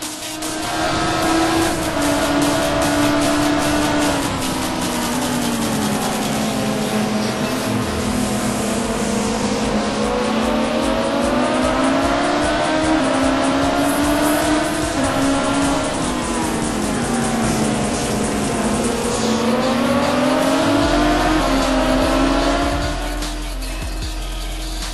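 Race cars lapping the Daytona road course during a 2.4-hour endurance race, engines droning loud and continuous with rising and falling pitch through gear changes and braking, no talk over it.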